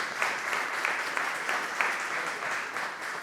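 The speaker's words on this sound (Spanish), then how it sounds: "Permítanme pedir un aplauso especial" Audience applause at a lecture-style conference on world politics in Peru, a steady, moderately distant ovation of many hands with a few sharper claps standing out, no voices on top.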